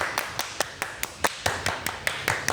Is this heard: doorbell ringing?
no